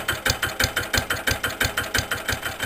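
A 1984 R.A. Lister LT1 diesel stationary engine running cold at about minus one degree, thumping in an even, rapid firing rhythm with sharp knocking beats, loud and close, with no talk.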